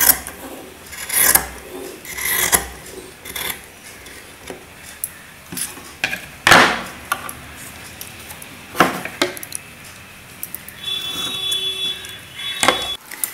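Scissors cut through cross-piece cloth while a dhoti-style pyjama is tailored, giving dry rasping snips and rubs in uneven bursts across the clip, close and fairly loud with no talking.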